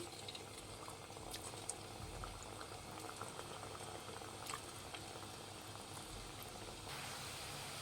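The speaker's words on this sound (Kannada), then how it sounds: "ಲೋ ಫ್ಲೇಮಲ್ಲಿಟ್ಟೆ ಬೇಯಿಸ್ಬೇಕು ಈ ನೊರೆಗಳೆಲ್ಲ ಕಮ್ಮಿ ಆದಮೇಲೆ ತಿರುವಾಕೊಬೇಕು" Small bakery-style kodbale fry in hot oil on a low flame, giving a steady, dense crackle and bubbling that runs evenly and close throughout, with no talk.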